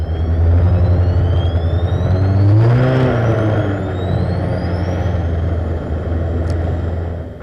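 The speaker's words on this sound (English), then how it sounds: "If you think that sounded more like a gas turbine than a car engine, you'd be absolutely right." A loud, steady high-pitched turbine whine from a gas turbine-engined race car at a British speed hillclimb, rising in pitch as it spools up, with a deep engine roar underneath throughout.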